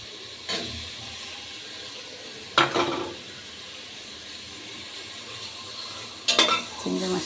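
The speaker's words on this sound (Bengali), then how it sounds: "চিংড়ি মাছটা দিয়ে কষিয়ে নিই।" Prawns stir-fried in a hot pan give a soft continuous sizzle, broken by three louder bursts of scraping and crackling as they are tossed and stirred.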